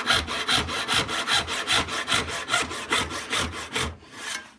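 Rob Cosman dovetail saw cutting through wood, a close, steady rhythm of about twenty rasping back-and-forth strokes that stops near the end with one last faint stroke.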